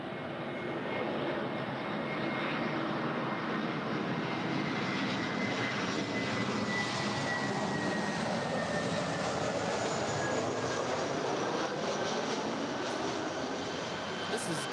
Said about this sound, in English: This is Delta Airlines Flight 335 coming in from Atlanta. It's a 2-year-old Airbus A321.